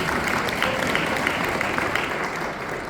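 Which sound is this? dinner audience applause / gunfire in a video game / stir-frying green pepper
dinner audience applause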